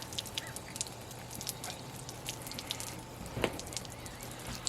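Water rinses off a panel before epoxy primer is sprayed, a faint steady patter with scattered drips over a low background hum.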